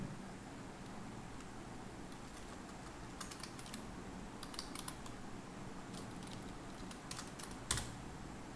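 Keys clatter on a computer keyboard as a command is typed, a steady run of light close taps with a few sharper clicks and one louder strike near the end.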